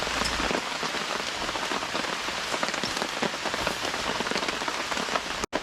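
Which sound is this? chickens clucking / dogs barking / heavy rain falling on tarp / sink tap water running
heavy rain falling on tarp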